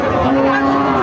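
A large cow at a cattle market lets out a loud, close, sustained moo that fills the short moment.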